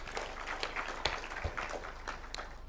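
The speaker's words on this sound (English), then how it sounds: "Better applause for the speaker, please" An audience of senators at a mid-term assessment meeting in Naivasha applauds a speaker, giving faint, scattered clapping at a distance that carries on thinly across the whole stretch.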